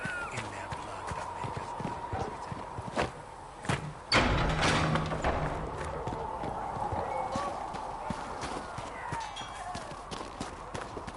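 Horses' hooves clip-clop in a fantasy role-playing game camp, a steady rhythmic trot with a brief heavier thud near the middle, under a soft ambient bed with occasional distant game voices.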